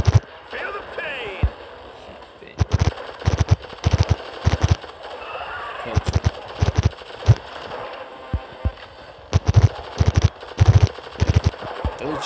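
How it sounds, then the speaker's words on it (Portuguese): Automatic weapon fire from the mobile shooter game Shadowgun Legends comes in loud rapid bursts separated by short pauses, with game effects and someone talking underneath. "Tiro automático, no modo de tiro automático"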